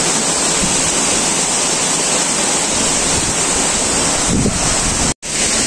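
Bambarakanda waterfall, Sri Lanka's tallest cascade, roars as a loud, constant wall of rushing water with wind buffeting the microphone, broken once by a brief dropout near the end.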